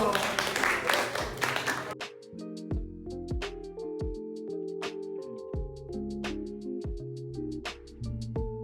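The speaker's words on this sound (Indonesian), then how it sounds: "Tepuk tangan dulu." Applause from an audience during a school visit to a BMKG geophysics station, a dense burst of clapping lasting about two seconds, then giving way to tonal music.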